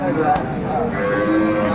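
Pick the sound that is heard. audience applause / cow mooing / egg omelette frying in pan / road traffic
cow mooing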